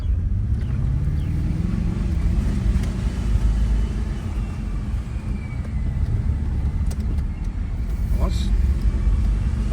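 Audi A6 4.2 Quattro V8 rolling slowly around a parking lot in low gear, a steady deep engine rumble running throughout with faint higher noises; people talk over it.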